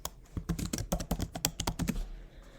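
Typing on a computer keyboard at close range, a quick irregular burst of crisp key clicks that spreads over about two seconds before trailing off into quiet.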